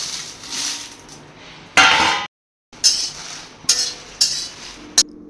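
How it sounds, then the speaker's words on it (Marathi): Red Byadgi chillies roast in a pan with a little oil, heard as close, intermittent bursts of scraping and clinking with short pauses between them, and no voices. "थोडं थोडं तेल टाकून थोड्याच मिरच्या घेऊन भाजायच्या, लाल मिरच्या"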